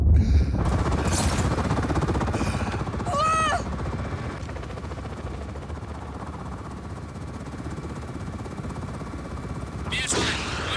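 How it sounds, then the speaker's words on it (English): A Just Cause 4 enemy helicopter's loud, steady rotor roar fills the scene continuously, with brief whooshing effects layered over the drone. "Enemies in a helicopter."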